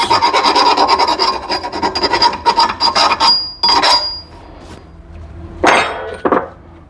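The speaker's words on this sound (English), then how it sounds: "I always take a file and get any burrs off the edges." Metal file deburring the cut edges of a steering tube during a steering gear install, heard as close, loud rasping strokes in a steady rhythm that thin out to a few separate scrapes and knocks near the end.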